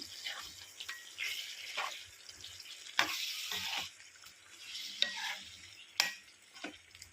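Chicken cooking in a pan with onion, green chilli paste, tomato, cashew and coconut paste, a soft intermittent sizzle broken by several sharp scraping stirs of a spoon against the pan.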